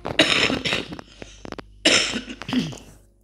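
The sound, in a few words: coughing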